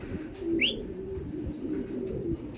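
Racing pigeons returning to their loft after a 259 km derby race from Naga City coo softly and repeatedly, with a brief chirp among them, close by over a low background murmur.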